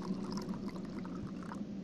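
Water pours steadily in Syberia 2, a brief continuous trickling stream at moderate level with no talking over it.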